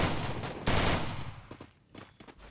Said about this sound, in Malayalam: ഞാൻ വെടിവെച്ച അതുകൊണ്ടാണ് എന്നെ കൊല്ലാത്തത്